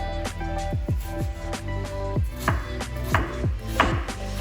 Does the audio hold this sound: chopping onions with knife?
yes